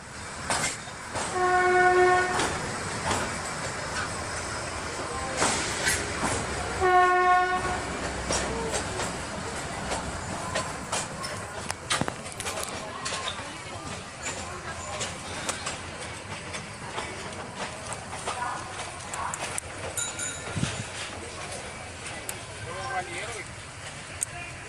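The Kalka Shimla toy train rolls toward Barog station, its horn sounding in short blasts over a steady rumble of wheels and carriages, with someone talking over it.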